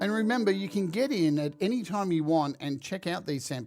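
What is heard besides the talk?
No distinct noise like a dog, phone or traffic.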